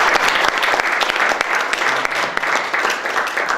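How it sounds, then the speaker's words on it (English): An audience at a panel discussion applauds its speakers with dense, even clapping that fills the room at a steady loud level throughout. "A round of applause for them, please."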